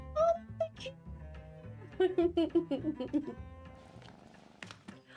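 Fat, fluffy cat in the Behind The Frame painting game, giving a few short meows and a soft purr against soft game music, near and moderately loud.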